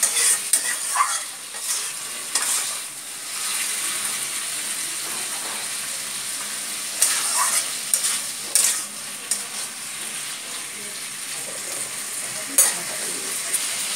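Taro stolons (kochur loti), parboiled and drained, being stir-fried with spices, with a continuous sizzle and repeated scraping strokes of a spatula against the pan, close and moderately loud, no talking.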